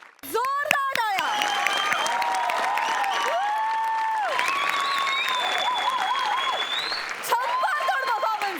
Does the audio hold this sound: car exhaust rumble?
no